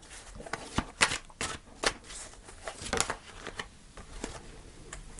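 Tarot cards are shuffled by hand in a series of irregular soft riffles and slaps, some bursts louder than others, close and quiet, with no voice.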